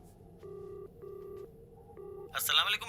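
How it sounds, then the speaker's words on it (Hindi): Three short, steady electronic keypad tones sound as a phone number is dialed on a speakerphone, evenly spaced over a low background hum, ending in a burst of noisy sound. "फोन लगाओ, मैं उनसे बात करना चाहता हूँ"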